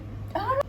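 A short, close cat meow with a rising, slightly wavering pitch, heard alone over quiet background hum.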